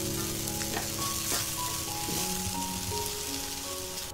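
Chopped chives and eggs sizzle loudly in a hot wok as they are stir-fried, a steady hiss broken by a few scraping stirs, close up with no talking.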